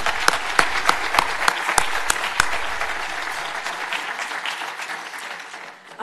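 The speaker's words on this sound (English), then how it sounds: "here I think we should clap" An audience applauds at a journalism event at Wallace House; a few distinct claps build into steady, close applause that slowly thins and fades toward the end.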